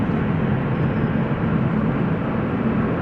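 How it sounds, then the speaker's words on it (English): Narrow-body jets taking off from runway 18 Left at Amsterdam Schiphol Airport, a steady broadband engine roar holding at a constant, fairly loud level throughout with no voices. "For the time being, more narrow bodies taking off from 18 left."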